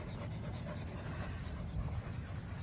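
Cows approach up close with steady, rapid panting, a continuous breathy rasp with no talking over it.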